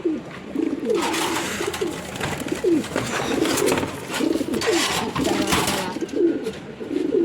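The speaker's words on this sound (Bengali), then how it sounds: "এখন জোড়া নিতেছে আবার সুন্দর আর ডাকতেছে" Several pigeons coo repeatedly in soft, rolling calls, one overlapping another, against a steady low background hum, in cold winter weather.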